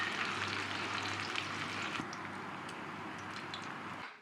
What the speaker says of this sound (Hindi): तो इसको फ्राई कर लेती हूँ मैं अच्छी तरह से